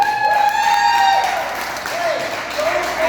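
An audience applauds steadily and fairly close, with a voice talking loudly over the clapping the whole time.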